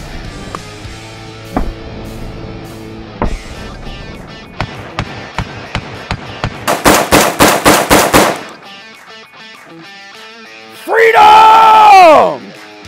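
AR-15 rifle fired at office equipment: a string of sharp, loud shots, first spaced then in a fast burst, followed by a loud whooping yell.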